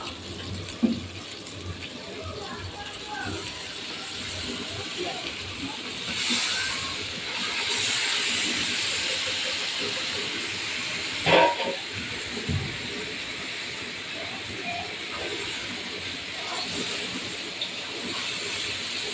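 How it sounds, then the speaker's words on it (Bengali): Meat pieces go one by one into a hot kadai, giving a continuous close hiss of sizzling oil with brief louder spurts as each piece lands. "সব মাংসগুলো আমি একে একে কড়ার মধ্যে দিয়ে দেবো।"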